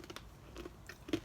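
Close, quiet crunching of a shiny, sugar-syrup-coated Taiwanese potato-chip-like snack with a hard texture, a few separate bites spaced through the moment, the last one sharpest, with no talking.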